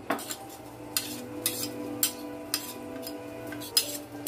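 Cooked jackfruit with fish spice mix is stirred in a pot, a utensil scraping and knocking against the metal in a steady rhythm of sharp taps over a soft sizzle.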